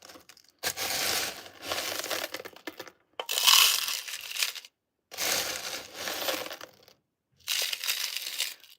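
Clear fusible COE 96 glass pieces clatter and crunch as they are poured into drawers, in four loud bursts of rattling with brief silences between them and no talk.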